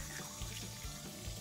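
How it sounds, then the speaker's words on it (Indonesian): Hot water streams from a tap over a frozen red snapper in a kitchen sink, a steady splashing rush of running water without talk. "saya harus siram dulu dengan air panas supaya dia gampang untuk nggak beku lagi ya"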